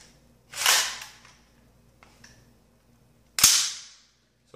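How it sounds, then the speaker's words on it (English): An AR15 bolt slams home after the magazine paddle is pressed, giving two sharp metallic clacks about three seconds apart, close and crisp, with a faint click between. "you can send the bolt home by depressing the paddle"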